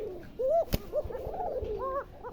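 A fancy pigeon at a pigeon farm coos close by in several rising, throaty calls, with a sharp knock partway through and faint background noise.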